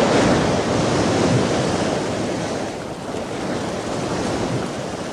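Sea waves and surf roar continuously along a coast, a broad steady wash mixed with wind buffeting, loud at first and easing slightly midway.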